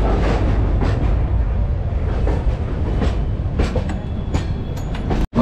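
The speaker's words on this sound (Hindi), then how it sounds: "राप्ती सागर सुपरफास्ट एक्सप्रेस आई है 10 नंबर प्लेटफॉर्म पे" Rapti Sagar Superfast Express rumbles at a busy railway platform, a steady loud train roar with rolling wheel clatter throughout and a brief sharp cut near the end.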